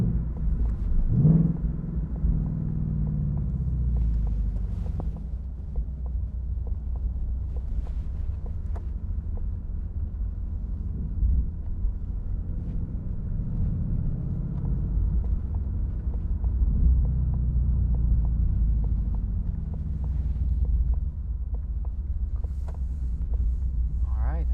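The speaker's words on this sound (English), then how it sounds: "That is a drive on a somewhat twisty road, very twisty for Ontario standards, road in the Mustang GT California Special." A 2021 Ford Mustang GT California Special convertible with a manual gearbox cruises a twisty Ontario road, its steady low engine rumble and road roar blending with constant wind buffeting, loud and unbroken throughout.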